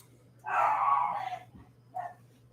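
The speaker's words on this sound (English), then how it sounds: "I meant to hit the mute button just so you guys don't have to listen to my dog scream." A dog lets out a loud, drawn-out bark or yelp followed by a shorter second one, close by over a steady low hum.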